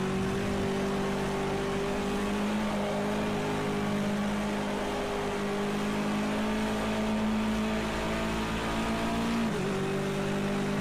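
BMW touring race car engine in a SARCO S2 race holding steady high revs with strong harmonic tones, dipping briefly near the end as it shifts, then pulling hard again; loud, close onboard sound with no talk.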